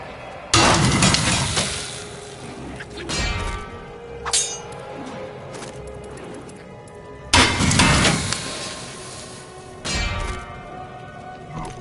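In the video game Diablo 3, a blacksmith's hammer strikes metal with sharp clanging impacts, a few loud ringing blows spaced several seconds apart with metallic decay between them.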